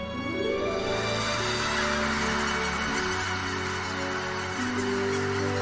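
Migratory birds, apparently geese or cranes, call in a dense chorus at the DMZ border area in Cheorwon, Gangwon, honking loud and overlapping in a steady clamor throughout.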